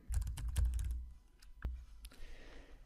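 Keyboard typing on a computer during a Word 2016 SmartArt lesson, a quick burst of close key clicks for about a second followed by a few scattered taps, with no talk.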